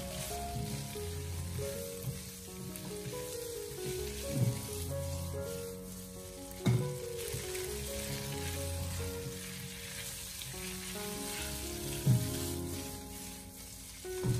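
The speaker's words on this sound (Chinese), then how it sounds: "再把焯过水的香干重新的放回锅中，然后开大火给它翻炒几下，将它翻炒均匀，把香干炒出香味" Blanched dried tofu stir-fried over high heat in a wok gives a steady close sizzle, with a few sharper clatters of the spatula turning the pieces and no voices.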